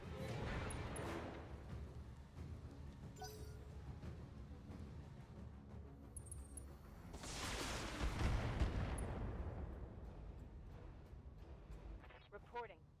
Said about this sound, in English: Machine guns only. Firing on target.